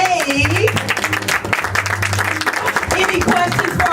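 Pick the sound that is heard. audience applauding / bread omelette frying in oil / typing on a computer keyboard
audience applauding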